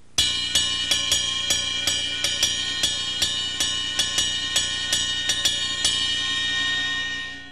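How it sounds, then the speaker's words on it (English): A Latin mambo cowbell pattern played by hand on a cymbal, a steady syncopated run of bright, ringing metallic strikes with a sustained shimmer underneath, close and alone, fading out at the end. "with my hand on the cymbal, I'm going to play a Latin mambo cowbell pattern"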